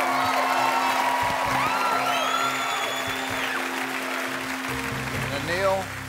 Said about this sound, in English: You have one of the largest cheering sections I've ever seen on the show